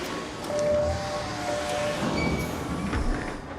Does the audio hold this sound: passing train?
yes